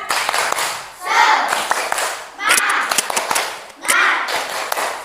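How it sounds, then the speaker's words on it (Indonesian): Children in a classroom perform a rhythmic spirit clap, three patterned bursts of quick group clapping separated by short pauses, with the kids' voices chanting along between and over the claps. "coba semuanya, ayo tepuk semangat"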